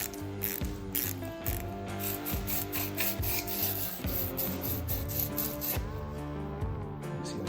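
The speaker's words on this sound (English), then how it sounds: "there's a little T15 Torx in here. Just in case I'm unscrewing it" A T15 Torx screw is turned out of a lock-on grip on a dirt bike handlebar, close and loud, with a run of rapid ratcheting clicks and scraping that go on throughout.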